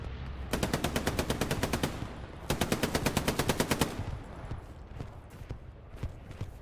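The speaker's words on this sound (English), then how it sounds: "He's hit firing the MG." A machine gun fires in an online multiplayer shooter, with two loud, rapid bursts of evenly spaced shots, each lasting about one and a half seconds, followed by quieter scattered gunfire.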